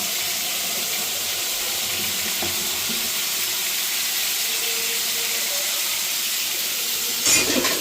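Beef liver going into spice paste that has been fried down until the oil separates, sizzling loudly and steadily up close, with a brief clatter near the end.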